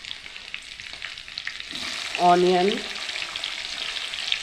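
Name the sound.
garam masala spices frying in oil in a kadai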